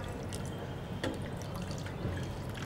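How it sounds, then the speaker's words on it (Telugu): Cold water poured into a bowl for boiling pasta in a home kitchen, a soft continuous trickle and splash with a few brief drips, faint and without talk. "సో బౌల్ తీసుకొని ముందుగా చల్లని వాటర్ వేసుకుందాం."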